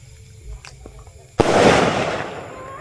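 A kanyon-type firecracker blast goes off with one sharp loud crack, then a broad rumbling roar that slowly fades, after a few small taps and quiet voices nearby.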